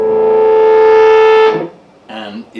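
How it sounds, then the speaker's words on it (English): A Fulltone Octafuzz OF-2 fuzz pedal with the boost all the way up, a loud held electric guitar note with long, buzzy sustain that cuts off abruptly, followed by a short burst of fuzzy notes. "Bringing the boost all the way up, it gives you this really unbelievable sustain"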